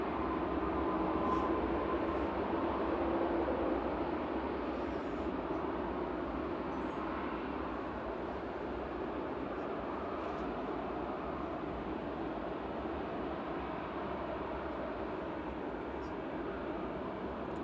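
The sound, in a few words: Qatar Airways airliner moving onto the runway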